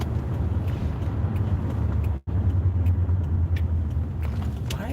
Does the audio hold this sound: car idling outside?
yes